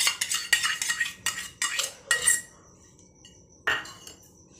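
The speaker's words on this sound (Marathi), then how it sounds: "यातच साखर टाकून घ्यायची आणि छान मिक्स करून घ्यायची. चमच्याने घेतली तरीही चालेल." A spoon mixes fresh cream (malai) and sugar in a bowl, giving a series of quick scraping and clinking strokes in bursts, close and fairly loud, then a pause and one more stir.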